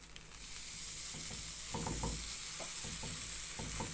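Harcha, a semolina flatbread, fries in a large pan with a steady close sizzle, while a utensil scrapes and stirs in quick light strokes over the hiss, with no talking.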